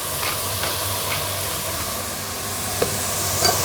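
Gentle stirring in a pot of vegan one-pot pasta, a steady soft sizzle and steamy hiss with a few faint scrapes and clicks, close and quiet, no talking.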